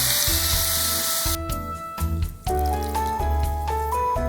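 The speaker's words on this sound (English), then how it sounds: "Add water." Water poured into a pot of frying pork, onions, potatoes and carrots cuts the loud sizzle abruptly, followed by bubbling and clinking as the liquid settles, close and without talk.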